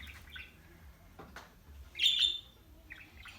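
Pet budgies give a few chirps, with a clearer, louder call in the middle, set against faint room noise and no talking.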